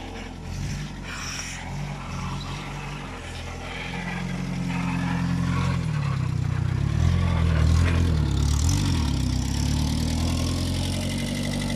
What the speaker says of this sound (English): Got the car started.